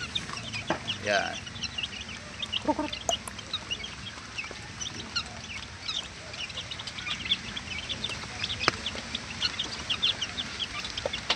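A hen with her two-week-old chicks, soft clucks and high chick peeps scattered throughout at moderate distance, with a brief word spoken.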